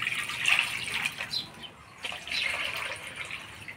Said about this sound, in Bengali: ডালটা আমি ধুয়ে নিব।